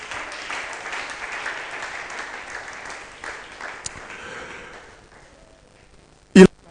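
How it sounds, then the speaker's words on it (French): A church congregation applauds and cheers at a Wednesday worship service, a steady wash of clapping that gradually fades out, followed by a single sharp, loud clap or knock near the end. "est-ce qu'on peut acclamer le Seigneur?"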